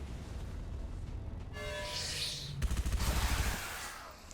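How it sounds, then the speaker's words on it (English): Submachine gun fire in a Halo-themed turn-based tactics video game, with a short burst of game-effect tones followed by a loud rattling volley of rapid shots lasting about a second, no talking. "let's go ahead and engage this turn with the SMG from American Knight"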